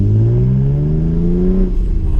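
A 2015 Ford Mustang V6 revs up loudly with a deep, throaty exhaust note, pitch climbing steadily before dropping off as the throttle eases.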